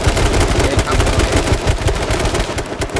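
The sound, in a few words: gunfire in a video game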